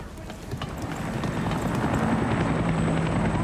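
Helicopter in the video game Far Cry 6 passing close by, a loud rhythmic rotor thumping and whooshing that builds slightly over a few seconds.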